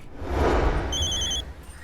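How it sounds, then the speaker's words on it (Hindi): A telephone rings in a Hindi TV drama scene, with bright repeated electronic ring tones over a steady low background hum, no voices during the ring. "किसका फोन है?"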